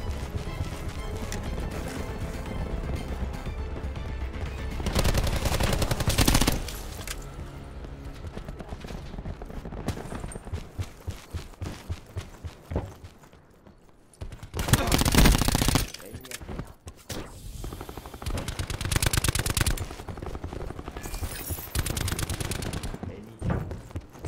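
Rapid gunfire during an online team deathmatch in Black Ops 4, dense automatic bursts and single shots recurring throughout, with several louder close volleys and brief lulls, mixed with in-game voice lines.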